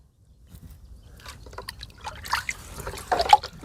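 Black humic acid granules being stirred into water, faint close-up liquid trickling and sloshing with small drip-like splashes that grow gradually busier over a few seconds.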